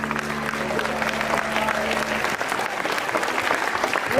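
An audience claps after a school performance, steady applause that fills the whole stretch with a faint hum beneath the opening.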